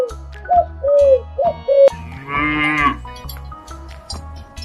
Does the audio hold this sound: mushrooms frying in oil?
no